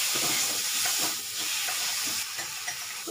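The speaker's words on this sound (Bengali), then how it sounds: "আদাটা ভাজা হয়েছে, দিয়ে যাচ্ছি টমেটো আর কাঁচা লঙ্কা, চেরা কাঁচা লঙ্কা" Tomatoes and slit green chillies sizzle in a pan with fried ginger and cumin powder, a dense, steady hiss of frying that stays loud and close with small crackles and shifts.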